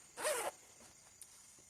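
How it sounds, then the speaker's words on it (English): A zipper on a handmade denim bustier top zips closed in one quick, close burst, followed by faint small clicks and near silence. "I will just fix my zip"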